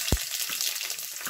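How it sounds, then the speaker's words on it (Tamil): A soft, steady sizzle of mustard seeds frying in hot oil with faint crackles and a sharp pop near the start. "கடுகு போட்டாச்சு"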